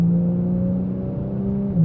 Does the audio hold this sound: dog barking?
no